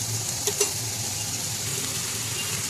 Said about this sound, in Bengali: এখন চাল কুমড়ো আর আলু একসাথে ভালোভাবে আমি নেড়ে নিচ্ছি। এইভাবেই নেড়ে নেড়ে আমি ভেজে নেব ভালোভাবে।